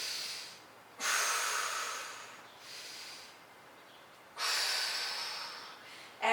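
Strong breaths during a postpartum strength workout, two long loud exhales and a softer one between them, close to the mic, with quiet gaps and a sharp breath at the very end.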